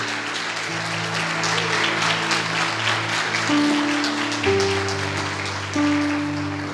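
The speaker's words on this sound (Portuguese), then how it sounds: "Pode aplaudir, pode aplaudir" Congregation applauding at a Sunday celebration service, steady clapping over sustained organ or keyboard chords, fairly loud and continuous throughout.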